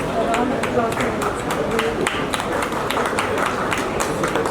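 A seated audience at a pediatrics lecture gives steady applause, a run of crisp, evenly spread claps heard at moderate distance while someone keeps speaking over it.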